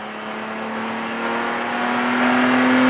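A car engine accelerates steadily on a track after braking and turning, its drone rising and swelling in loudness as it pulls back onto power, with no talk over it.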